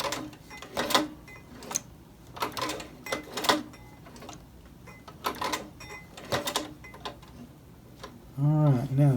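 Giraffe skin leather being hand-stitched for a cell phone holder, with a series of sharp, irregular clicks and thread pulls up close, and a short burst of voice near the end.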